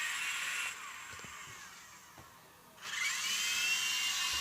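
A remote-control toy helicopter's rotor spins with a thin, high electric whine. The whine dips quieter for a couple of seconds, then surges back louder and steady, with faint clicks in between.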